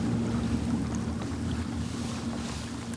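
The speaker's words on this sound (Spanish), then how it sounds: "El motor de la lancha." A motor launch's engine drones low and steady from nearby in Chile, mixed with wind buffeting the microphone and water sloshing.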